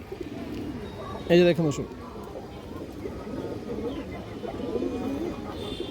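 Old-bloodline pigeons with boot beaks coo softly in a loft amid a low murmur of birds, while someone speaks briefly near the start.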